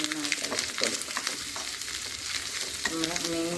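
Curry leaves drop into fish roe frying in a pan, setting off a steady close sizzle with stirring scrapes and a fresh crackling burst near the end.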